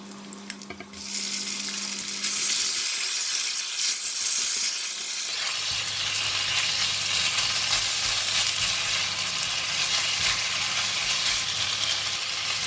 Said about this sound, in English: garlic is about to turn brown, so I'm going to put in the meat